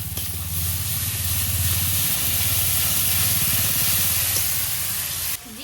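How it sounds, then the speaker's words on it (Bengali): Ginger, garlic and green chili paste hits hot oil in a home kitchen pan, giving a loud, steady sizzling hiss that holds unbroken nearly throughout, then cuts off at the very end. "এখন এখানে আদা রসুন লঙ্কা বাটা দিয়ে দেবো"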